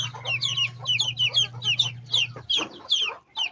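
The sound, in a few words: chickens clucking at feeding time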